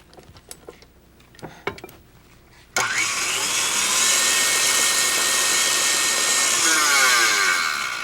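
An electric mixer starts abruptly and runs at a loud, steady whine as it beats buttercream, with a few light knocks and clinks just before it switches on, and no talking over it.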